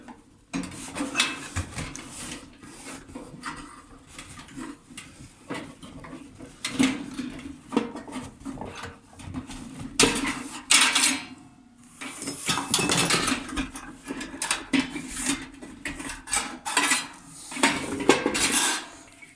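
Pieces of a 15-piece multi-purpose cookware and grill set, including a griddle plate and lid, are unpacked and handled, giving near, repeated metallic clinks, clatters and knocks in uneven bursts with brief pauses.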